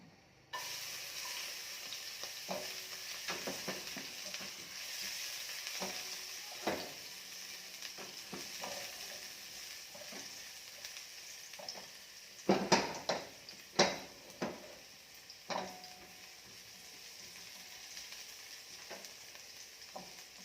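Garlic sizzling steadily in a hot pan for a Filipino adobo sitaw lunch, a continuous close frying hiss with occasional louder clatters and stirring scrapes, no voices.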